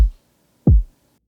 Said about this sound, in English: I basically have a kick, which sounds like this